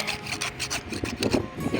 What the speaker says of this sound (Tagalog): tsagayin na lang natin sa lagari